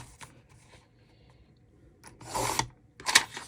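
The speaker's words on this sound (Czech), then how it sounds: "A teďka si nařežeme si pásky na náš vzor." Printed paper being cut into strips for a folded book pattern, with scrapes and rustles from blade and paper, quiet at first, then louder bursts of cutting and handling near the end.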